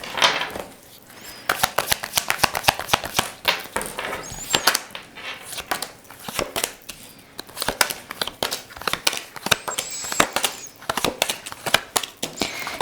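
Tarot cards are shuffled and dealt with rapid, uneven slaps and riffling flutters that go on throughout, close and crisp.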